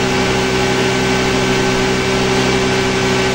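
A Honda Scoopy scooter engine runs steadily during a charging test, a loud continuous idling drone with a strong even hum and no change in pace.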